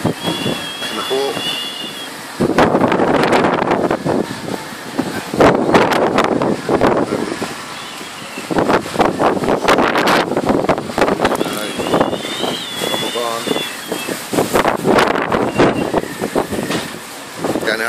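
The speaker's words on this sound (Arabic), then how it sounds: "عشان سامعين صوت الرياح." Strong wind gusting across a hilltop at Sur Baher above Jerusalem, a steady loud rush with buffeting against the microphone, heard beneath someone talking through most of the clip.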